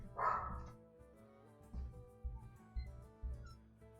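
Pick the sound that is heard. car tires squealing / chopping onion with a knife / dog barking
dog barking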